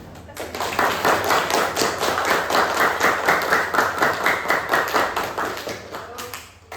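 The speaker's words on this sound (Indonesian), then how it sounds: "Beri tepuk tangan." Hands clapping in a classroom, a steady run of crisp, rhythmic claps from a group of students filling the room at close range for several seconds, with no talk over it.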